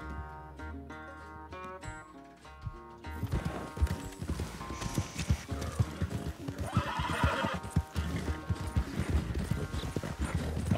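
Horse in Red Dead Redemption 2 gallops steadily with rapid, close hoofbeats and an occasional whinny, following a short stretch of game music at the start.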